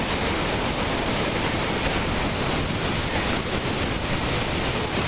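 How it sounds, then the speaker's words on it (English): Water gushes in a heavy, steady roar from a controlled release at the Summersville Dam in West Virginia, a dense unbroken rush of white noise close to the microphone with no voices. "Look at that water gushing out of the Summersville Dam."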